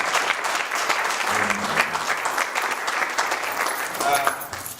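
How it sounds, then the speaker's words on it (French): A church congregation claps and cheers for the Lord in a lively service, sustained applause with rhythmic clapping and voices throughout, loud and close. "Est-ce qu'on peut acclamer très fort le Seigneur?"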